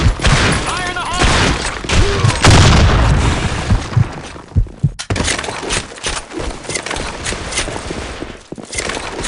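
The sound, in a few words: grenade explosion in Blackshot video game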